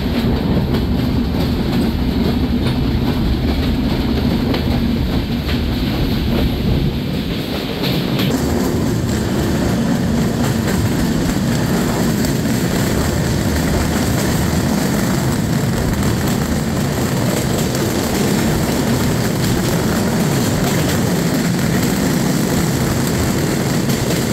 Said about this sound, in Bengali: ট্রেনটি ইন্ডিয়া থেকে আমদানিকৃত LHB কোচ দ্বারা পরিচালিত হচ্ছে